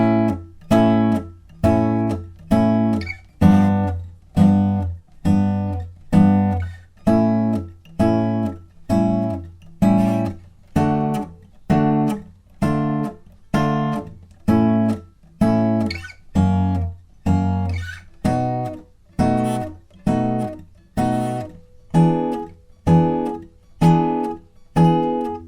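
Electric guitar picking short, palm-muted staccato plucks in a steady even rhythm through the verse of a song, loud and close with chord changes, no voices.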